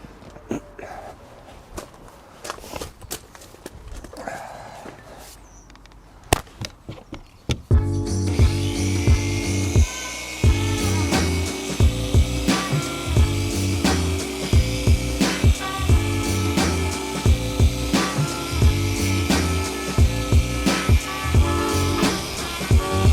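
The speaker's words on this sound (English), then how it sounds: "I've got here a finishing pad from Lake Country and a bit of finishing polish on here" After a few scattered knocks, a machine polisher with a finishing pad starts on the painted panel of a Rolls Royce Ghost with a failed ceramic coating, a steady mechanical whir with rhythmic pulsing and repeated clicks, close and continuous.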